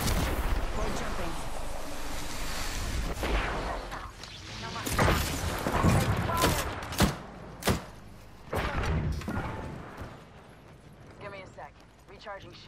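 Gunfire and explosive bursts from the Apex Legends video game crack in scattered, irregular shots over background game noise, with a player talking.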